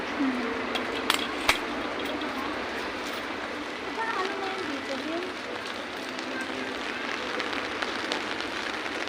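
Steady rain falling at Ocean Park in Hong Kong, a continuous hiss with occasional sharper drops and taps, close and even throughout.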